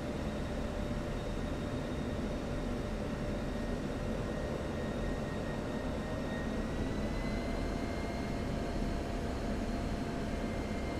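An F-5 jet taking off in DCS, a steady, loud engine roar with a rising whine holding through the whole stretch, no voices.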